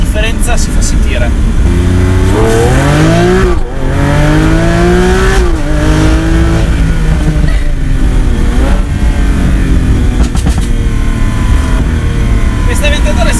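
A Lamborghini Aventador S, a large V12 supercar, revs and shifts through tight, twisty road sections, its engine rising and dropping in pitch with each acceleration, loud and close under someone speaking throughout.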